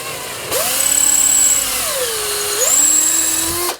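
A power drill bores into a Precision bass guitar kit body, its steady whine rising and falling in pitch as the bit spins up, loads into the wood and eases off, close and loud with no talking.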